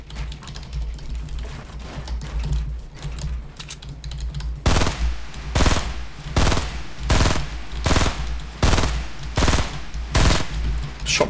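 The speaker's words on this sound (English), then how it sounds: "Shot my own building there." Gunfire in the Fortnite video game hitting the player's own building, with a steady rattle at first, then about seven loud, evenly spaced heavy shots close up.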